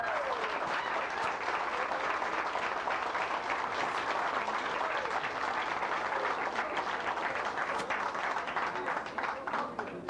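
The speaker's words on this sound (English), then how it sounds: "I want to thank you for that applause" Sustained applause from a large audience at a talk in Los Angeles, dense and steady clapping filling the whole stretch with cheers mixed in, loud and close.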